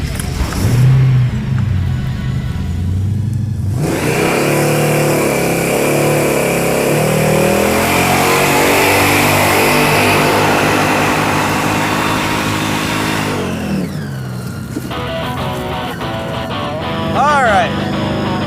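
A homebuilt Draguar drag car with boiling brake fluid roars as its engine revs hard and pulls away, a sustained loud run with rising gear-like harmonics, ending with a throttle lift and a brief rev; people talk near the start and end.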